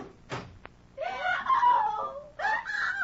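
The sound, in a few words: scream of a patient in a radio drama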